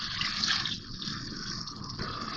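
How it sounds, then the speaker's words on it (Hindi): A cup of water is poured into a pot of beef stew with tomatoes and onions, giving a short, soft splashing gush that is fairly faint and has no talking over it. "1 कप पानी डाल रही हूँ इसमें भर के मैं।"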